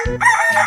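A rooster crows once, loud and close, a short strained call standing alone.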